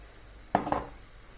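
A spoon stirs ezogelin lentil soup in a pot, giving two quick, close metallic clinks against the rim with a quiet pause between them and no voices.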